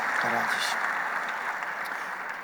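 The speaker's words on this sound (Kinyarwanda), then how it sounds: "Muyiha amashyi, Imana ishimwe cyane." Applause from a church congregation, a steady wash of clapping that stays fairly even and tapers slightly toward the end, with a brief voice near the start.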